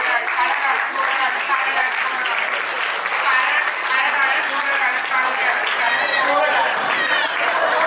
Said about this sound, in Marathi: त्या बाजू जरा जोरदार टाळ्या जरा झाल्या पाहिजे.